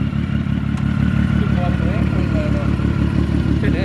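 A Triumph motorcycle engine fitted with a muffler runs at a steady idle, a loud close low-pitched throb with an even pulsing beat throughout. Faint voices can be heard under the engine.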